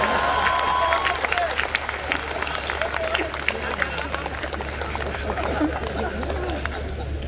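Audience applause at a Hindi comic poetry recital, a sustained patter of clapping from a crowd with scattered murmurs, moderately loud and steady for several seconds.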